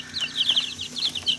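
Baby chicks in a temporary brooder peep in quick, shrill bursts, a steady chorus of close chirps with no talking.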